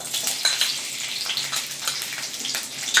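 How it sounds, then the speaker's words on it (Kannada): Ginger and garlic fry in hot oil for a home-style chicken curry, giving off a steady, close crackling sizzle with fine spitting pops throughout and no voices. "ಈಗ ಇದನ್ನ ಚೆನ್ನಾಗಿ ಫ್ರೈ ಮಾಡ್ಕೊಳ್ಳೋಣ"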